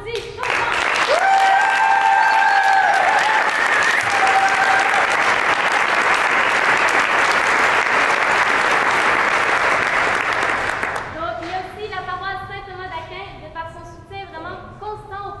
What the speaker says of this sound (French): La technique, d'ailleurs, qu'on applaudit chaudement.